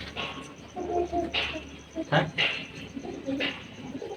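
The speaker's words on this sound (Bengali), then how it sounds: "ওই পারে একটা কবুতর বসছে।" A pigeon coos nearby in short, soft, throaty calls that repeat at intervals, with a brief word spoken over the top and light household background noise.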